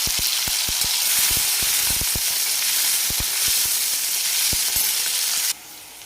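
Chopped green chillies hitting hot oil with cumin, a loud continuous sizzle and hiss with sharp crackling pops scattered throughout, easing off abruptly near the end.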